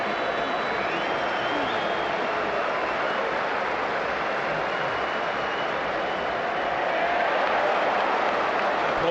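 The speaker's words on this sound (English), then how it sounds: "Applause as Callum Wilson goes out to warm up" Applause and crowd noise at a Newcastle United versus Liverpool football match as a player goes out to warm up, a broad continuous roar of the stadium crowd, steady throughout, with commentary-style talk mixed in.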